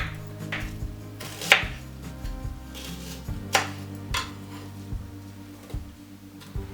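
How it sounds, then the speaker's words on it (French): A knife slices half an onion on a board: a few sparse, distinct chopping knocks at an uneven pace, close and fairly quiet. "émincer le demi-oignon"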